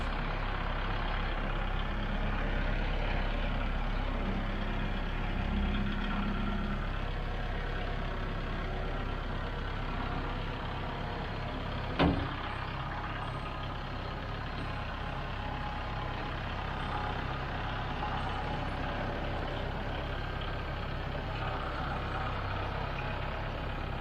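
A Kubota tractor engine runs at 1,000 RPM with a bush hog attached, a steady, even drone for the whole stretch, with a brief sharp knock partway through.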